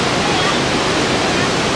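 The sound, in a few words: Piso-Piso waterfall in North Sumatra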